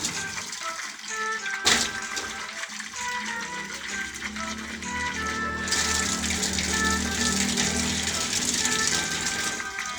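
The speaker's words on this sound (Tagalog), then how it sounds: "lalagyan natin ng tubig." Tap water runs and splashes into a cooking pot holding chicken for a tender chicken dish, a steady close-up gush with a short clatter near the start.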